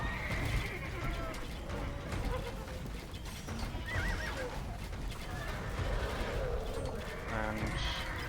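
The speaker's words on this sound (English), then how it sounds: "More and more horses are running in here." Horses neigh and hooves clatter continuously in an Age of Empires II tournament match, with battle noise and a caster talking throughout.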